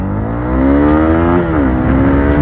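A Honda CB300R motorcycle accelerating hard, its engine note climbing steadily in a loud, close, continuous rising whine with a brief dip partway through as it shifts before pulling again.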